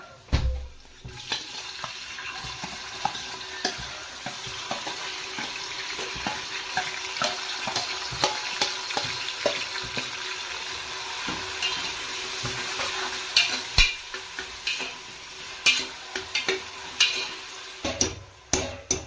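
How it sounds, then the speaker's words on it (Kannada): Vegetables fry in oil with onions for a homemade pulao, a steady crackling sizzle broken by repeated scraping and stirring of a spoon against the pot, close and unvoiced. "ತರಕಾರಿಲ ಎಣ್ಣೆಡು ಒಂತೆ ಫ್ರೈ ಆವೋಡು"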